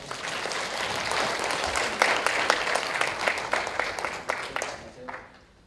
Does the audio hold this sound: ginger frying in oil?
no